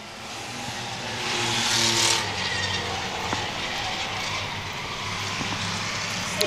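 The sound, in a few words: race cars speeding around a track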